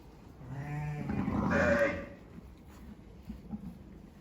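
A ewe bleats once, a drawn-out wavering call, close by, beside her newborn lamb being helped to suckle, followed by quieter rustling and faint movement.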